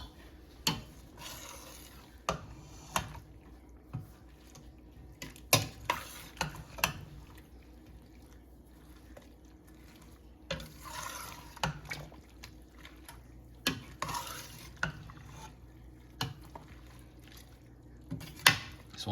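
Sliced cucumbers and onions are stirred through a bread-and-butter pickle mixture in a pot, giving quiet, intermittent wet scrapes and sloshes in irregular bursts, close by and alone.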